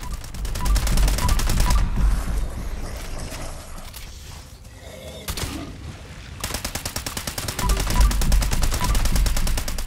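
Repeated loud gunfire bursts from a shotgun in the Fallout 76 video game, dense rapid shots filling the start and end with a quieter lull in between.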